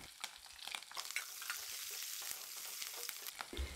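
Steady, crackling sizzle of ginger, green and dried red chillies and curry leaves frying in a hot pan, with occasional scrapes and taps of stirring.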